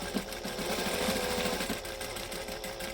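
A sewing machine stitches a shirt with a rapid, steady mechanical chatter that runs almost continuously and fairly quietly, with no one talking.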